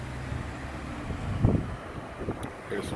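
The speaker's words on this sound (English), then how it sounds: "It's just been pretty windy, so it's nothing I can do to stop that." Steady low rumble of wind buffeting a smartphone microphone outdoors in Austin, Texas, with a few louder gusts and no talking.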